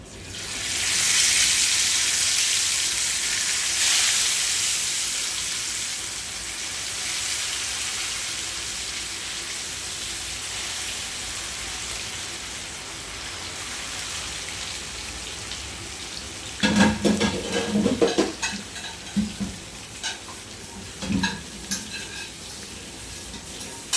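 Fish sizzles in hot oil for a fish curry, a steady loud hiss that keeps going, with sharper spattering crackles bursting in near the end.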